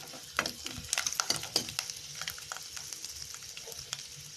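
Ten to fifteen garlic cloves sizzling and crackling in hot oil for a chutney, with scattered stirring clinks over a steady frying hiss, close and moderately loud.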